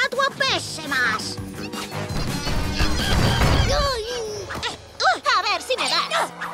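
A cartoon sculpture smashes with a loud crashing burst of breaking debris amid busy animated sound effects and music, with character voices and squeaky cartoon calls before and after.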